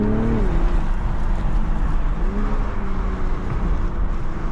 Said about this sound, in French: On a un retour au niveau du turbo.